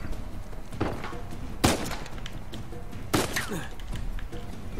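Gunfire in Uncharted 4, a few sharp shots or short bursts standing out against quieter background noise, heard at a moderate distance with a voice speaking faintly between them.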